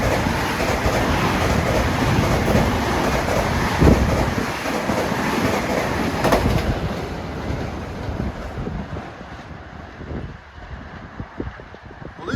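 On a damp, dreary day, an LIRR diesel train passes on triple track at Carle Place/Mineola with a loud, broad rumbling roar mixed with wind buffeting, easing and thinning toward the end.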